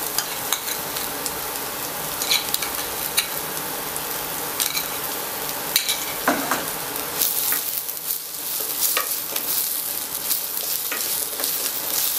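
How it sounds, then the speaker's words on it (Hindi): Green chilli and ginger garlic paste sautéing in hot oil, a steady close sizzle with crackling pops and occasional stirring scrapes running throughout, with no voices. "अच्छी तरह से भून लें"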